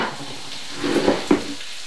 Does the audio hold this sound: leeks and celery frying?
yes